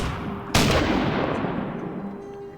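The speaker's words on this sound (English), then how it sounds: "Weapons up. Ready, aim, and fire." Soldiers in a VRChat roleplay fire a rifle volley in a single loud, sharp blast that rolls off into a long fading echo, with no talk over it.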